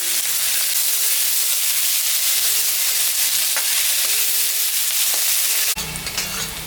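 Onion frying in oil alongside cumin, dried red chillies, bay leaves and chopped pistachio gives a steady, close, loud sizzle with faint stirring clicks. Near the end, the hiss changes abruptly and turns rougher.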